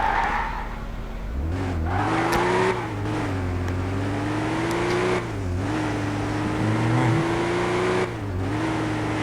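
A BMW in the Car Simulator 2 game drives at high speed with a steady, loud engine drone that rises and dips as it shifts, with tire squeal layered over the engine.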